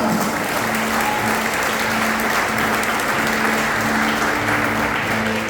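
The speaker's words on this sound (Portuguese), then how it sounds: "Se você acredita, aplaude aí, aleluia." A church congregation applauding during a sermon, steady loud clapping that fills the room evenly for several seconds under a sustained low tone, with no speech.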